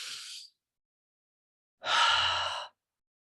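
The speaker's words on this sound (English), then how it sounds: "So I want you to take a deep breath." A deep breath during yoga pranayama: a short airy breath trails off, then after a pause comes a long, full exhale with a soft sighing quality, close and alone with no talking.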